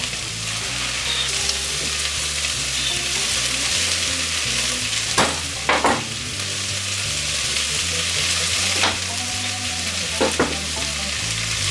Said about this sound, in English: You gotta stir it so it's light brown